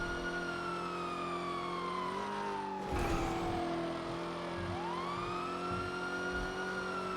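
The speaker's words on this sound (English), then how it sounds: "Car sounds angry." Car engine in GTA roleplay on the NoPixel server, a steady droning hum with a rising and falling pitch sweep and a brief louder burst midway, continuous and fairly close, no talking.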